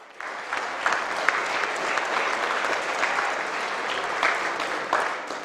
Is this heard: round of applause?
yes